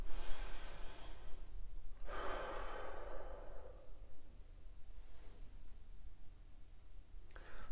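A deep breath is drawn in and then released in a long sigh, followed by a quieter second exhale, close and intimate over a low background hum, with no talking.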